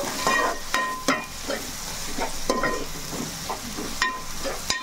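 Onions fry with rock salt in a pan while a spoon stirs them, giving repeated clanks and scrapes over a bubbling sizzle, loud and close, without speech.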